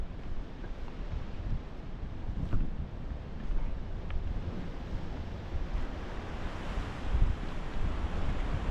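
Rough Mediterranean sea in force 8 winds on the Malta coast, a constant heavy wash of surf mixed with gusting wind buffeting the microphone, loud and continuous with no voices.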